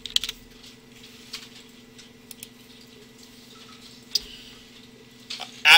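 Keystrokes on a computer keyboard, a few sparse soft clicks scattered over a quiet hum, with a sharper tap midway and a louder cluster of clicks at the end.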